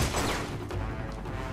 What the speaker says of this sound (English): Again with the sudden explosions.